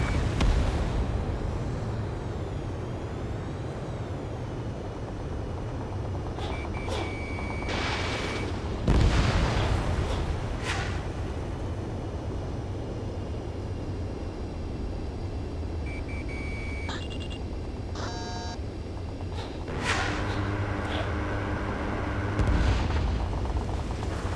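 Heavy explosions and bursts of gunfire from the Ace Combat 7: Skies Unknown jet combat game: deep booming blasts over a constant rumbling din, with a few sharp loud hits and short electronic beeps scattered throughout.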